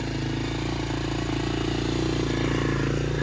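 A diesel quad ATV engine runs at high idle, a steady, close, rhythmic chugging drone that holds an even pitch throughout.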